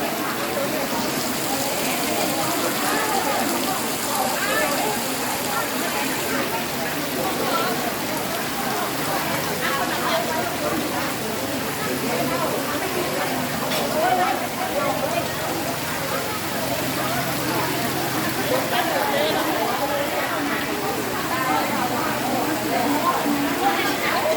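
Dense, continuous hiss of heavy rain falling steadily throughout, a thick even wash with scattered drop patter, while voices talk over it intermittently.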